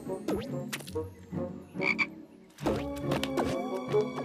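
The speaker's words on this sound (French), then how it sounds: "Maman, elle a peur d'une grenouille." Loud, close frog croaks in irregular runs, deep rattling calls with pitch sweeps and short gaps between them, heard alone with no talking.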